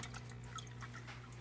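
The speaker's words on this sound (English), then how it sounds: "The water pump pumps water and dumps water directly up into the grow bed area." Aquarium water pump lifting water up into the grow bed of an indoor aquafarm, a faint continuous trickle and drip of falling water over a steady low pump hum.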